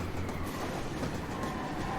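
A runaway train on rails rolls with a steady, dense rumble and rattle, near and constant for the whole stretch, with no voices.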